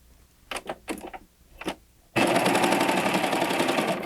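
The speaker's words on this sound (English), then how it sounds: "do a 4-thread overlock on something 2 or 3 times as thick as that lining fabric" A Baby Lock Acclaim serger running a 4-thread overlock on thick denim gives a few short bursts of stitching, then a loud continuous rapid mechanical buzz to the end.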